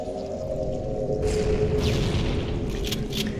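A rocket launcher explosion in Halo: Combat Evolved lands as a heavy boom over a constant low rumble, followed by a couple of sharper blasts and crackles a moment later.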